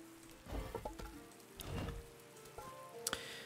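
Rain falls steadily in the Viking survival game Dead in Vinland, a soft, constant patter beneath scattered game interface clicks and tones, with no voices.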